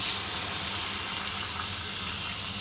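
Water poured into a pan of fried green tomatoes and potatoes for a kachki fish curry, a soft continuous gushing splash that stays fairly quiet and even throughout.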